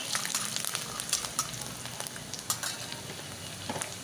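Chopped green chili, ginger and curry leaves are tossed into a hot pan for lemon rice, giving a soft crackling sizzle with quick sharp pops and spatters, fairly quiet and close.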